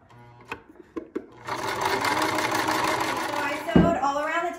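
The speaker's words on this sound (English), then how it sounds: "it just slides right along the sewing machine. So I'm just gonna keep on sewing here." A sewing machine stitches woven grain and feed bag material, beginning with a few separate clicks and then running as a steady, fast mechanical whir. A brief knock comes near the end.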